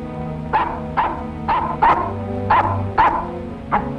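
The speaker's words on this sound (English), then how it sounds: "What the dickens are you barking at?" A dog barks repeatedly and fairly close, about eight sharp woofs at a steady, slightly uneven pace, over a low background hum.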